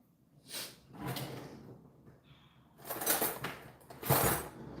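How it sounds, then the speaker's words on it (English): A spoon stirring a pot of curry chicken with white yam and dasheen, giving a few scraping, clinking metallic strokes in uneven bursts, close and fairly loud, with quiet pauses between. "I'm gonna give my pot a stir"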